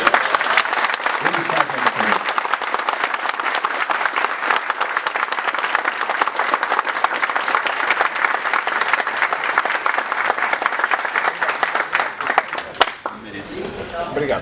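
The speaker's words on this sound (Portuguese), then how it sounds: "Obrigado, pessoal, pelas palmas." Sustained audience applause at a corporate university event about a TV scenery factory, dense and loud clapping from a large crowd that carries on for over ten seconds before fading, with a voice speaking over it.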